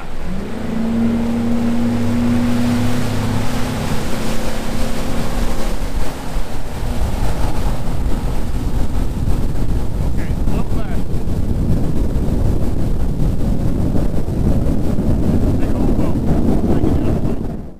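A Charger 210 Elite bass boat runs fast across a lake, its steady engine roar and rushing water and wind noise continuous and loud throughout, with a brief lower tone early on.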